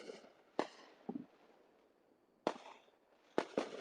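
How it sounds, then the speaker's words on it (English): Fireworks set off in a church parking lot in Tennessee, heard from a distance as four sharp bangs spread unevenly over a few seconds, each with a brief crackling tail. "there's somebody in the parking lot firing those fireworks off"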